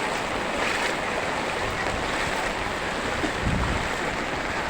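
Floodwater after brief heavy rain rushes steadily through a flooded residential area, a continuous broadband wash with low rumbling swells and no clear voices.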